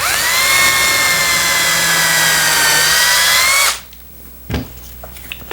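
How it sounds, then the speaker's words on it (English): A power drill whines loudly and steadily as it bores center holes into the ends of wooden legs, then cuts off abruptly, leaving a quiet room with a few small knocks. "Before I trim these ends, I need to drill in center references."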